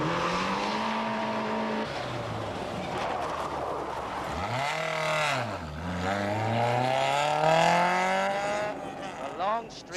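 Rally cars on a mountain stage of the 1992 Circuit of Ireland Rally, with an engine droning steadily before a car revs hard and sweeps past, its pitch dipping and climbing through gear changes, close and loud.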